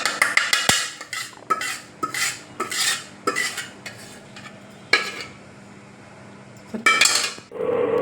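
Metal utensils clatter and scrape against a wide vessel as fried rava is tipped in, a series of sharp, close knocks, with brief pauses and a quieter stretch near the end.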